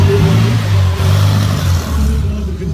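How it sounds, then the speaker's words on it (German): A Volkswagen race car pulls away at the start of a rally, its engine roaring loud and close, then dipping and rising again as it accelerates off into the distance. "Christoph Auto ist jetzt los"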